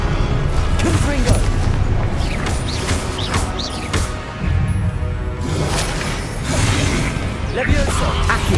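Confringo fire-blast spells in Hogwarts Legacy burst with loud booming crashes and whooshes over a dense, continuous game soundscape, several impacts in a row.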